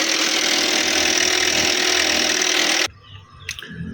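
A rough-running car engine with oil sludge buildup drones loudly and steadily at close range, then cuts off abruptly, leaving faint scattered noises.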